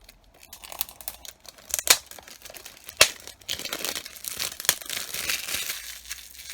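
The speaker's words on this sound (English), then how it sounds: "Take this plastic off for you." Crinkly plastic wrap peeled off a 4K Blu-ray case of The Thing, steady crackling and tearing close up with a few sharper snaps, no talk.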